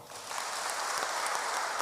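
A PCEA church congregation at a Kikuyu service breaks into brief, even applause, a close wash of clapping that fills the short moment without any voices.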